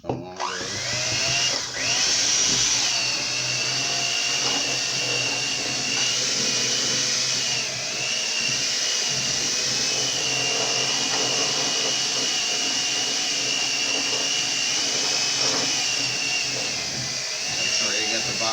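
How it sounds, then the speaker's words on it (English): An electric hand mixer beats sugar in a bowl, running as a steady, close, continuous whirring drone that hardly changes in level. "And then we'll hit it again with the mixer."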